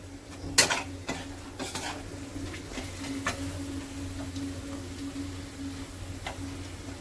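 Spice masala mixture stirred in a pan, with a spoon clinking and scraping against the metal over a soft, continuous sizzle, close by and with no talking.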